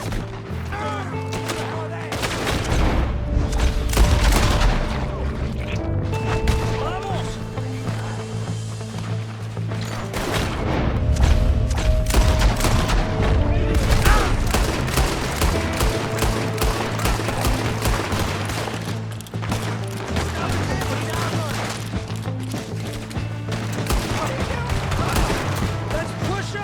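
Sustained gunfight in Red Dead Redemption 2, dense volleys of rifle and pistol shots cracking loudly throughout, with a steady musical score underneath and occasional voices mixed in.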